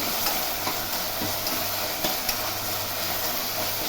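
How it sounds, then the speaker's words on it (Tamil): Onions and spices, with salt, sautéing in a pan for South Indian dal rice: a steady, close, even sizzle-hiss with faint stirring scrapes throughout and no talk. "எல்லாமே இப்போ வதங்கிட்டுருக்கு நல்லாவே"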